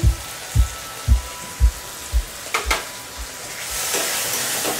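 Masala with cumin powder and turmeric cooks in a pan, first with a run of soft rhythmic thumps about twice a second, then a rising frying hiss near the end.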